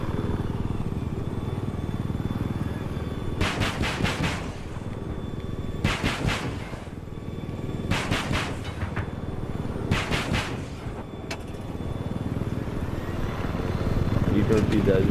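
Helicopter gunfire on the Battlefield 4 test range, a steady low rotor drone with four short bursts of rapid shots around the middle, fairly loud and close.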